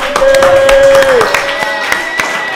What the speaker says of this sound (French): On les applaudit encore, s'il vous plaît.